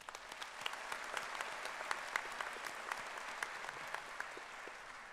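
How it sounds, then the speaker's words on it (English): Audience applause at a college graduation ceremony honoring scholar athletes, steady dense clapping from a large crowd filling the hall for several seconds with no talk over it. "Let's take a moment to recognize and applaud their remarkable achievements."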